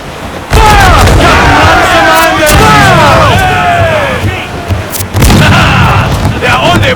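A broadside of ship cannons booms repeatedly during a sea battle in Assassin's Creed Black Flag: loud, close blasts with rumbling tails, a brief dip, then another heavy volley, with shouted voices mixed in.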